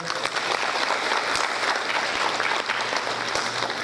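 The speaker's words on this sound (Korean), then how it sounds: "박수 한번 부탁드릴게요." Audience applause at a Korean War 64th anniversary memorial ceremony, a dense, steady wash of clapping from a crowd that holds at an even level for the whole stretch.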